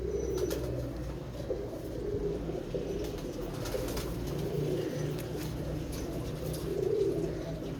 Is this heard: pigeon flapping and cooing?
yes